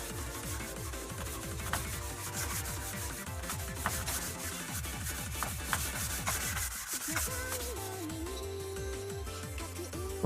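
Sandpaper rubs along a wooden bachi drumstick in quick, rhythmic back-and-forth strokes. The scraping is steady and close, with a short pause near the end and no talk.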